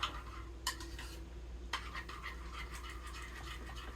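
A utensil stirs beef gyro ingredients for a slow cooker, giving soft scraping and clinking strokes in an uneven rhythm over a steady low hum. The sound is quiet and close.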